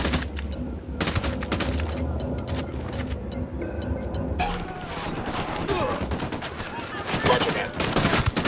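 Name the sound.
gunfire from squad in Ghost Recon Wildlands video game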